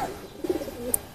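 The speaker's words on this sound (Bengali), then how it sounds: "এটা একটা মাদি কবুতর।" Soft cooing of a female racing pigeon being sealed before a 121 km race, a few low, brief coos close by, with a faint chirp near the end.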